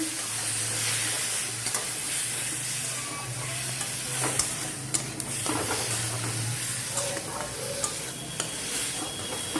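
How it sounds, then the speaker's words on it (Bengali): Spices for puti fish curry sauté in a pan with a little water, giving a continuous close sizzle with intermittent spatula scrapes and small taps throughout. "দিয়ে এইভাবে কষিয়ে নেব"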